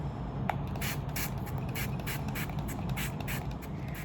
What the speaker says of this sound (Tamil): இது நான் ஜஸ்ட் ஒரு காட்டன் பேடில் நான் வந்து ஸ்ப்ரே பண்ணிக்கிறேன்